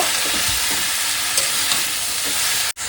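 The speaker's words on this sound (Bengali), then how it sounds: "পালং শাকটা দিয়েও আমি বেশি কষাবো না, মিনিট 2 একটু নাড়াচাড়া করে নেব।" Spinach is stirred and fried in a pan with a loud, steady sizzle and soft scraping, ending in a sharp click and a brief dip in sound, with no talk.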